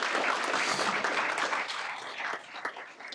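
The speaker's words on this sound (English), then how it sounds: "one more round of applause for our cross-country teams" An audience at a school board meeting applauds cross-country teams. The clapping is dense and sustained at first, then thins and fades toward the end.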